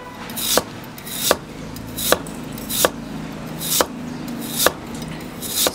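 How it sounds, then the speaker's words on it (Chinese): A knife chops a potato into fine shreds for stir-fried potato, landing about eight sharp, evenly spaced strikes on the board, close and clear, with no talking. "这土豆要切丝，既然做土豆丝就要切丝。"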